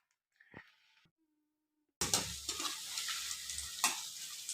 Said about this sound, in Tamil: நம்ம போண்டா போட்டு எடுத்துக்கலாம்.